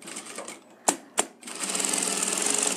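A sewing machine stitches plastic sheeting: two sharp knocks, then the motor whirs into a steady, fairly loud running stitch that carries on to the end.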